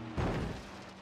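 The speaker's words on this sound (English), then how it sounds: "I've crashed." A Ford Transit van crashes in the Forza racing game: a single loud, muffled thud of impact right at the start, trailing off into steady low engine rumble.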